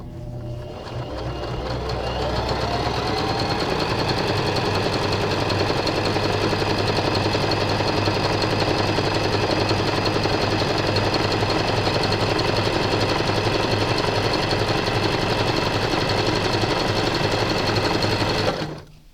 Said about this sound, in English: Let's change that width to a 2 and see if we can actually get it to be